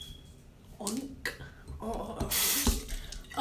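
Water runs from a tap into a basin in bursts, with a steady rush near the end, while a person talks over it.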